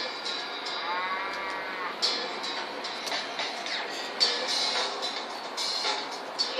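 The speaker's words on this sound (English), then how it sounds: "we're going to meet the prize-winning herd of longhorn cattle, an entire paddock of clones" A herd of cloned, prize-winning longhorn cattle moo repeatedly and overlap in a paddock, some calls near and drawn-out, others farther off, with no talking.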